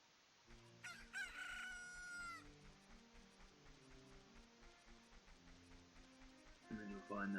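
A chicken hatches from an egg in The Legend of Zelda, with a sharp sparkle, then loud rooster crows over a steady game music loop, ending in another crow.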